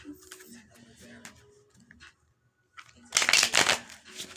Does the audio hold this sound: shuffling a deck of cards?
yes